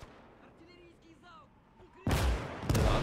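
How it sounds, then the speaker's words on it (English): Artillery fire on the German side of a World War II Eastern Front battle in Gates of Hell: Ostfront, two loud booming blasts late after quieter ambient noise, close and heavy. "The artillery's doing its work, at least."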